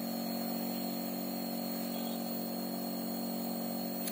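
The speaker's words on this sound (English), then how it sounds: "By pressing this switch, we can bring the motor to a stop" A small electric motor runs steadily on a lab test bench with a capacitor bank braking circuit, giving a constant whirring hum with a high whine on top, unchanging and alone for the whole stretch.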